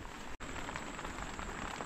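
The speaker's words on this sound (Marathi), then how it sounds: "आणि बाहेर आहे ना पाऊस चालूच आहे." Rain falling outside a tent at night, a steady dense patter of drops on the fabric with a brief dropout, with no voices.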